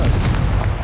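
A Confringo blasting curse explodes in Hogwarts Legacy, giving a single loud, close, deep boom with a short rumbling burst that fills the brief moment on its own.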